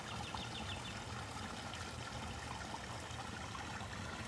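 Water trickles and splashes steadily into a koi pond outdoors, a continuous bubbling wash with faint bird chirps in the background.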